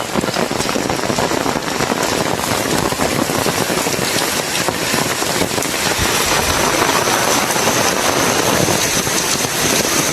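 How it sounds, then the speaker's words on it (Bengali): Heavy monsoon rain pours down in a village, a dense, unbroken hiss of drops drumming on surfaces, loud and close for the whole stretch, with no talk. "কি লেভেলের বৃষ্টি ভাই, পুরে ভিজে যাচ্ছে"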